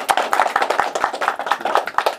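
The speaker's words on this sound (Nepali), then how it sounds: "ताली बजाइदिनुहोस्" Audience clapping fills a community gathering in a Nepali home, a dense, steady patter of many hands close by, continuing throughout with no pauses.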